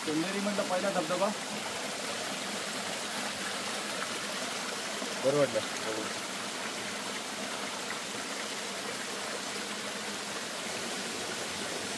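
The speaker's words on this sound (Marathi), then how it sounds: "चंदेरी म्हटलं पहिला धबधबा" Water at Chanderi's first waterfall, in a wooded hillside setting, rushes in a steady, broad roar throughout, with brief speech near the start and middle.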